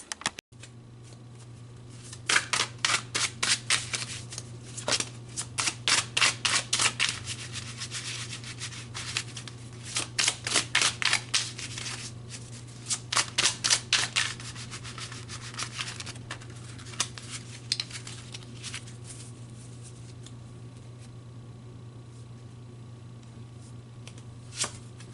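Tarot deck being shuffled by hand: repeated bursts of rapid, crisp card riffles in clusters, close to the mic, over a low steady hum, with no talking.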